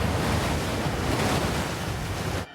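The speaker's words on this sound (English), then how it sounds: "The only thing you can see is the white of the pounding water on the rocks." Raging ocean surf pounds on rocks near the shore, a loud, dense roar of crashing water mixed with wind buffeting, continuous until it cuts off abruptly at the end.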